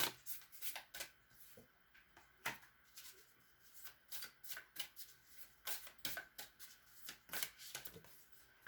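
Tarot cards pulled and shuffled from a deck for a Celtic cross style reading, a quiet, close series of crisp card flicks and slaps in irregular bursts, with no clear talking.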